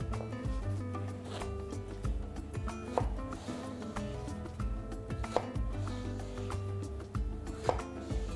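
A peeled eggplant is chopped into small cubes with a knife on a board, giving steady close knocks and scraping cuts over about eight seconds with no talking.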